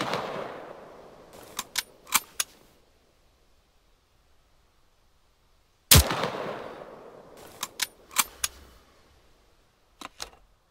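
Sniper rifle in Arma 3 fires two loud, close shots several seconds apart, each a sharp crack followed by a rolling echo tail and fainter distant reports.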